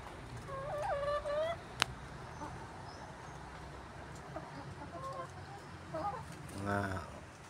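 Rhode Island chickens cluck and call, with a rising squawking call early on and another burst near the end, over low background murmur and a sharp knock.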